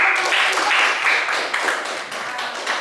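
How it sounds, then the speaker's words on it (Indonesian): Classroom applause for a student group, a dense wash of many hands clapping steadily and fairly close for a few seconds, swelling in small waves without a clear break. "Ya, tepuk tangan untuk kelompok 1."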